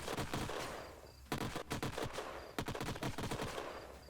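Cannon fire in the sci-fi strategy game Age of Wonders: Planetfall, a burst of sharp, loud blasts in two quick volleys, punchy and close with brief decaying tails.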